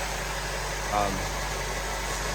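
A 2012 Honda Civic engine idles steadily with a new belt and alternator fitted, a smooth, even hum running throughout with a brief mid-range swell near the middle.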